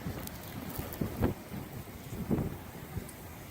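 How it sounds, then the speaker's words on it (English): Rain and gusting wind during a beach blizzard, heard as a rough, blustery hiss with irregular buffeting bursts of wind striking the microphone. "The rain started about a half hour ago."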